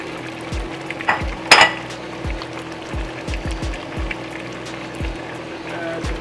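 Chopped onions are stirred in a hot frying pan while making curry chicken for meal prep. A spoon scrapes and taps against the pan in a steady series of knocks over a low sizzle.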